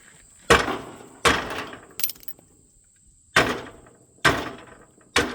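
Heavy hammer blows land one at a time during a John Deere H tractor teardown, six loud metallic strikes spaced irregularly, each ringing briefly before fading into silence.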